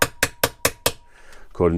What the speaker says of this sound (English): we want to just get in there with a small socket and hammer that cap in